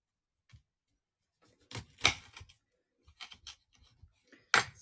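A knife cutting into a fresh lemon on Pancake Day: several crisp, close crunching and slicing strokes in uneven bursts, separated by near silence, with no voices.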